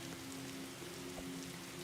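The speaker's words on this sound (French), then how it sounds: "il pleut, mais il tonne pas" Rain pattering steadily on surfaces in a forest survival video game, an even, dense hiss of drops with a low hum beneath and no talking.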